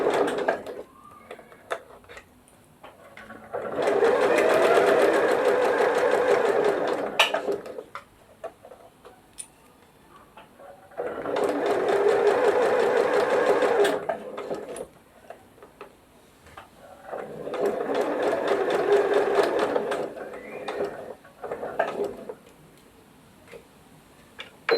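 Stitching a zipper pouch, a sewing machine whirs in three long runs of several seconds, each separated by quieter gaps holding small ticks and handling clicks.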